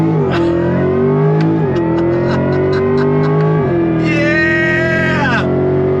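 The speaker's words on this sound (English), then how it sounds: "We're going on throttle from a dead stop." 2024 Chevy Corvette E-Ray launching hard from a dead stop, loud engine rising in pitch through quick upshifts, each gear change dropping the tone before it climbs again, heard close from inside the car.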